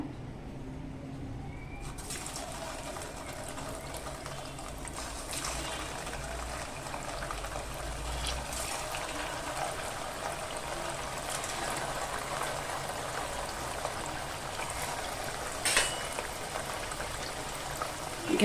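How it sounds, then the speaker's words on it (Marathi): Vadas for an Indian fasting snack fry in hot oil over a medium flame, giving a steady, dense sizzle and bubbling that runs throughout with no voices. "आता आपलं तेल छान गरम झालेलं आहे आता आपण ना वडे तळून घेऊया"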